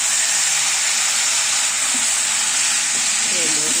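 Potatoes and brinjal fry in a pan as spiced water goes in, giving a loud, steady hiss and sizzle that stays constant from start to finish.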